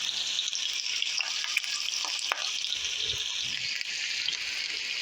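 Onions and garlic frying in butter in a pan, a steady close sizzle with occasional stirring clicks and scrapes.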